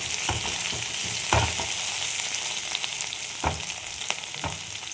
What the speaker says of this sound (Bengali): দেখো আলুগুলো মোটামুটি ভাজা হয়ে গেছে